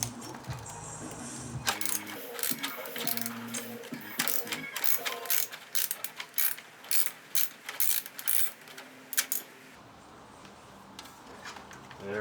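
Ratchet clicks in rapid bursts while a bolt is backed out of the fairing on a 2017 Yamaha R6, the mechanical clatter close and loud with short pauses between runs.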